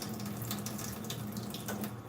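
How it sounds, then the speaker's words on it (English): Cold water runs steadily from a kitchen tap, a continuous close hiss and splash with no voices, while flour is being mixed for a curry chicken dish. "So put the cold water"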